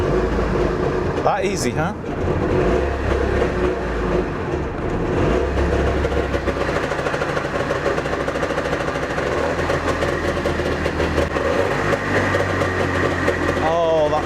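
A two-stroke engine fires up and keeps running with a steady, loud, buzzing drone that continues throughout, close by, as a person briefly speaks over it.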